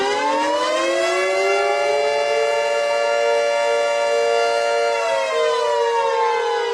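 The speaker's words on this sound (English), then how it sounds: "the fire sirens has went off" A loud siren wails steadily, its pitch slowly rising at the start and shifting again near the end.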